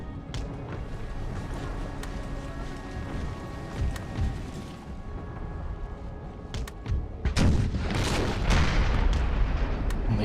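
A volley from troops in the Empire Total War video game, a rumbling cluster of overlapping shots swelling over steady battle din and then fading.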